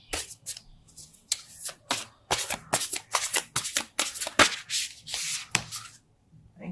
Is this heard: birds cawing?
no